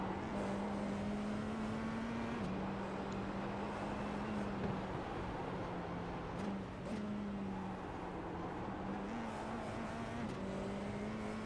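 A Formula 4 race car on the Belle Isle circuit accelerates hard, heard from on board: a loud, steady engine drone climbs in pitch with brief dips at each upshift across the lap.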